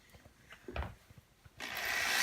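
A hand drill boring holes in a kids' hunting craft project: scattered ratcheting clicks and knocks, then a steady grinding whir that swells louder and holds to the end, close by with no talk.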